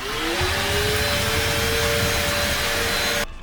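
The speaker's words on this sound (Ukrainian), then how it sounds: "зараз Мія протестує два пилососи, ви побачите на екрані, який швидше пилососить" A Stihl SEA 20 or Bosch GAS 18V-1 cordless vacuum runs steadily and loudly with a whining motor tone, then cuts off abruptly near the end.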